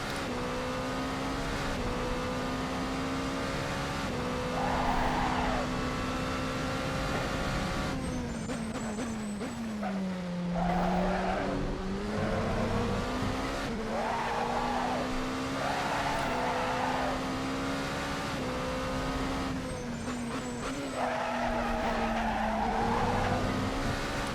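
Race car tires squeal and skid sideways in long sustained howls over a droning engine at Sebring in a racing video game, the slides rising and falling in waves and recurring throughout.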